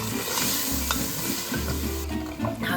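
Sizzling and stirring in a pan of browned chicken and blanched onions as Greek brandy is poured in to deglaze, a steady loud frying hiss with soft scraping and low clatter throughout.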